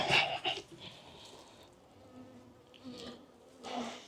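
A wasp buzzes near a beehive during a hive check, its whine rising and fading as it flies close past, with quieter stretches of low background hum between passes.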